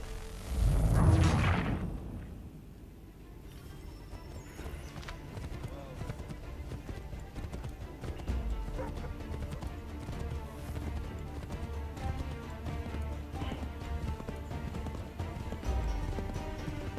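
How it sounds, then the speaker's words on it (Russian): Horse hooves clip-clopping at a gallop in the video game Assassin's Creed 3, a loud burst at the start, then steady rhythmic hoofbeats under game music and ambience, with someone talking over it. "надо было на лошадь садиться"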